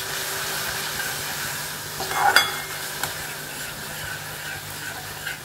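A ground paste of cumin and ginger sautés in a hot pan, giving a steady sizzling hiss with a sharper flare as it is stirred, then settling back to a soft, even fry.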